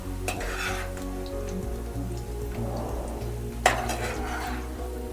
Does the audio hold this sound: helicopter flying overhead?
no